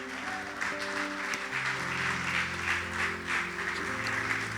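A church congregation applauds steadily during a Spanish-language worship service, the clapping sitting over sustained organ or keyboard chords.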